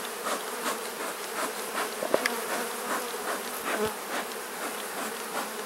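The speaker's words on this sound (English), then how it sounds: "I'm going to start closing this hive up because there's a lot of bees here." Honey bees swarm around an open hive during an inspection, a dense, steady buzz with individual bees droning close past now and then, all alone without talk.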